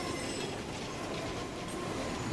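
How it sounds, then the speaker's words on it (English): A train rolls past in Assassin's Creed Unity, a continuous rumbling clatter of wagons on rails with faint squealing wheels, steady and moderately quiet throughout with no voices. "Don't get hit by trains."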